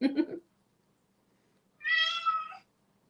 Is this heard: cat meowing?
yes